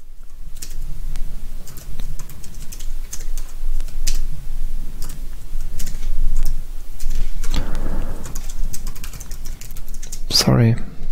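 Rapid clattering keystrokes on a computer keyboard with a German layout, typing commands into a terminal on a PinePhone Plasma desktop setup, continuous and close with brief pauses, a short burst of speech near the end.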